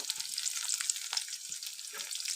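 Crackling, spitting sizzle of garlic, onion and chilli frying in hot oil, bursts of popping over a steady hiss, close up and fairly quiet.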